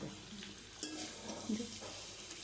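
Cooked rice and vegetables for mixed rice are stirred in a hot pan, making a faint, low sizzle with soft scraping strokes and a few light knocks of the spoon.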